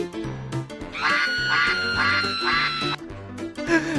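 A cartoonish duck quacks in a video game, a rapid, loud run of nasal quacks over a bouncy musical backing, with a few more quacks trailing at the end.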